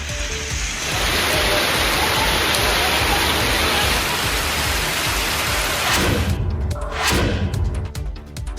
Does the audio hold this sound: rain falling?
yes